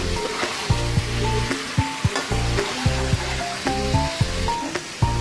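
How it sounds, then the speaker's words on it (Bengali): Spiced meat for biryani sizzles and fries in a pot, with a steady hiss broken by repeated scraping stirs as the pieces are slowly turned and mixed, close and fairly loud with no talking. "এখন আস্তে ধীরে হচ্ছে এগুলা উল্টানো পাল্টানোর মাধ্যমে হচ্ছে মিক্স করে নেওয়া হবে আস্তে ধীরে"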